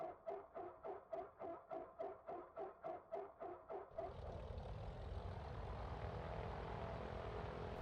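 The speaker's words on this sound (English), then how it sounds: "we hit our start button and keep it pressed until the engine is fully started" A TB-30 Epsilon propeller engine in Microsoft Flight Simulator 2024 cranks with a rhythmic, pulsing starter whine for about four seconds, then catches and settles into a steady, loud idle rumble.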